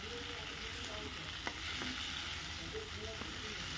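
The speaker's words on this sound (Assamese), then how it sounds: "আলুখিনি ভালদৰে লাৰি দিলোঁ" Potatoes stir-fry in hot oil with onion and chili, a steady close sizzle and crackle running throughout with a few soft scrapes of stirring.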